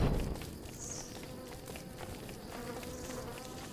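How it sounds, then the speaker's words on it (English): Insect buzzing from mosquitoes in the survival game Don't Starve Shipwrecked, a faint, wavering whine drifting in and out over soft in-game footsteps and ambience. "Ooh, are there mosquitoes over there already?"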